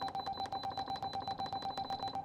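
An electric pressure cooker, an Instant Pot set for a meat stew, beeps in a fast, regular series of short electronic tones, fairly faint and with nothing else audible.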